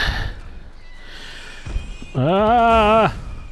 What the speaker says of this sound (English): Stupid burning pigs.